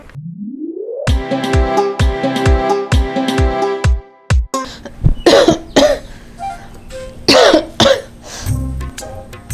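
A rising tone and rapid rhythmic notes give way to a series of loud, harsh coughs close up, with throat clearing between bursts.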